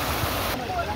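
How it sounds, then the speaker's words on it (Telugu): A waterfall in NTR Garden sends out a brief, continuous broadband rush of falling water, steady and fairly loud. "చూడండి వాటర్ ఫాల్"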